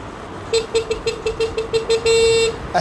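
A car horn honks repeatedly in short bursts, then blares in one longer sustained blast, loud against steady road traffic.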